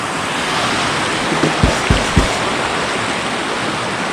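Steady broadband rush of falling water at Tad Kham waterfall in Nakhon Phanom, Thailand, loud and continuous, with a few low thumps breaking through midway.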